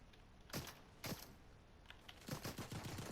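Gunfire in a competitive ranked shooter match, a few separate sharp shots followed by a quick burst of rapid fire, faint and distant-sounding with no voices.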